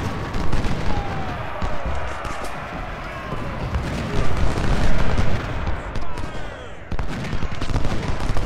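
Cannon artillery booms and rolling gunfire from a Civil War battle at Chickamauga in the strategy game Ultimate General: Civil War, a dense continuous barrage of overlapping blasts at steady loudness throughout.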